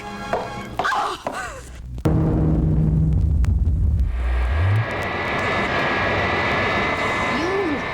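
A propeller airplane engine drones steadily and loudly after a few thumps and brief noise, holding a constant roar that eases slightly toward the end, in a Wonder Woman audio drama scene.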